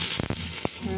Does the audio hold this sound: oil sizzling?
yes